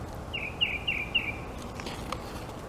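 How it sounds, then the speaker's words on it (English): Small birds singing outdoors, a quick series of thin high chirps in the first half, faint and distant over a steady hiss of background noise. "The birds singing."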